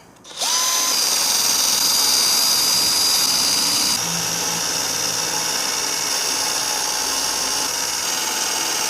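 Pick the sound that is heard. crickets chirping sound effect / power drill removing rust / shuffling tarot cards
power drill removing rust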